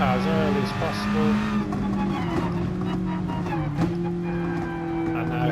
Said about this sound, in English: slam on the brakes as hard as you can, all the way down to 2nd gear